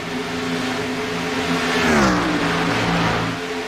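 Xfinity race car engines at Atlanta in iRacing, a steady loud multi-car drone whose pitch sweeps up and back down around the middle as a car passes close, with no talk over it.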